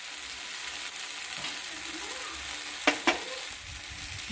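Tomato paste and spices frying in a pan for Bengali-style doi chicken, a steady low sizzle throughout with two sharp clinks of a utensil against the pan near the end.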